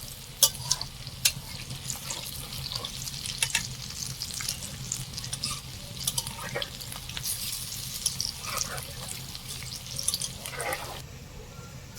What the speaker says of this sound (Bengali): এরকম ভাবে লাল লাল করে ভাজবেন একটু কড়া করে ভাজতে হবে